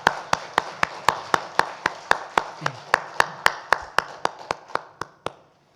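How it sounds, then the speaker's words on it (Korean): A church congregation claps at a Sunday worship service in unison, about twenty sharp, evenly spaced claps in a steady rhythm that fade slightly toward the end, with no talking. "하나님께 영광의 박수 올려드립니다."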